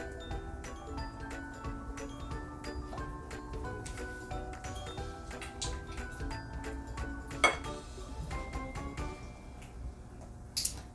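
A utensil clinks and taps against a bowl while cinnamon is mixed into vegan breakfast bar batter, with quiet irregular ticks and scrapes close by and a few sharper knocks.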